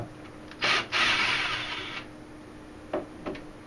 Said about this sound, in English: Removing all the screws for the metal grill.